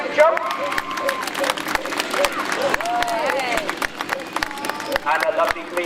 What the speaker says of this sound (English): ladies and gentlemen, let's give him a round of applause